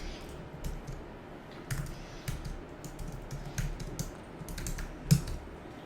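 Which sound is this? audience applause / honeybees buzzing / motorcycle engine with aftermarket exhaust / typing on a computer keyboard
typing on a computer keyboard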